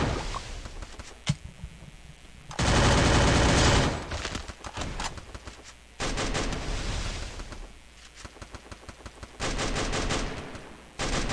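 Machine gun fire in a video game, heard as loud sustained bursts of rapid automatic shots lasting one to two seconds each, separated by quieter stretches with scattered single shots.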